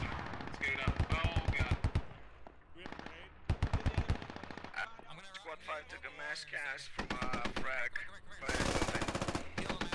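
Bursts of rapid automatic gunfire in the military shooter SquadOps, sharp repeated shots in several clusters, with voices talking over and between the volleys.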